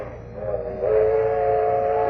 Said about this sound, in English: They're traveling south by train this year.